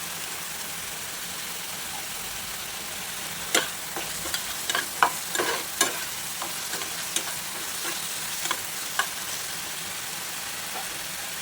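A spice paste with potatoes and tomato sautés in a pan, a low steady sizzle broken by a cluster of sharp spoon scrapes and taps, then quieter occasional stirring.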